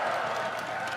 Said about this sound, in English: cheer if you want to see polymorph